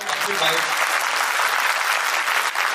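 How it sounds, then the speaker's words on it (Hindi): A seminar audience claps steadily and loudly for the whole stretch, dense continuous applause with a brief voice or two showing through near the start. "पहले इसके लिए ताली बजा दो"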